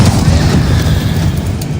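The Confringo blasting curse goes off in Hogwarts Legacy as a heavy, sustained booming explosion, loud and close, rumbling with low-end weight for its whole length.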